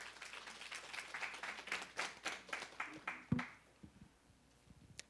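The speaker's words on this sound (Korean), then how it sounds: "네, 큰 박수로 맞이하겠습니다." A seminar audience at a parenting forum welcomes a speaker with clapping. A fairly small crowd claps in loosely rhythmic bursts for about three seconds, then it stops, leaving light thumps and movement.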